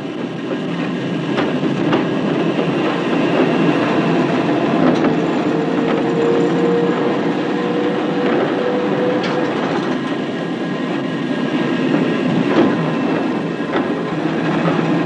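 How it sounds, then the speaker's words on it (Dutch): A standard-gauge city tram in 1920s Haarlem arrives at the station, heading for the terminus in Schoten, with a continuous rolling rumble, faint wheel clacks and a brief squeal, steady and fairly loud, with no voices. "Links arriveert een normaalsporige stadstram op weg naar het eindpunt in Schoten."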